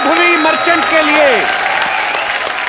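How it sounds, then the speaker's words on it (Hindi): Loud applause from a television comedy show audience rolls on through the whole stretch, while people cheer and speak over the clapping. "जोरदार तालियां एक बार"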